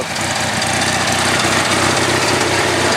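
A lawn mower engine with a poorly adjusted carburetor runs with the choke partly out, giving a loud, close, steady chugging drone with no talking.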